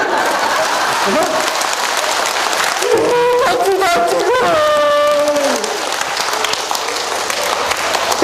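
An audience at a laughter yoga health lecture claps steadily while people laugh and a voice rises in a wavering, sing-song tone over the clapping midway, with the crowd noise continuing loud and close throughout.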